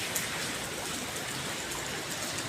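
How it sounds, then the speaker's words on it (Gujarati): Steady monsoon rain pours over Surat, Gujarat, during a third straight day of downpour, making an even, unbroken hiss of falling water with no voices. "વરસાદ ચાલી રહ્યો છે."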